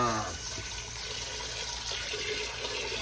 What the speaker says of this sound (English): just kind of rinse that off and pour the rest of it right in there